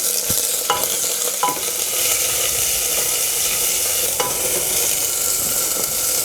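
Chopped chili frying in a pan for goat curry, a continuous loud sizzle broken by several sharp spatula scrapes and clinks against the pan, with no talk.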